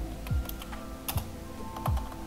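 Someone types on a computer keyboard up close, striking a few distinct, well-spaced keys with soft clicks against a quiet background hum.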